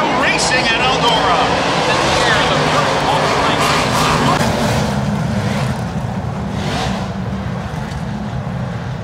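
Race trucks roar off at the green flag on the Eldora dirt track. A dense, loud engine drone fills the whole stretch as the field accelerates, and a commentator talks over it.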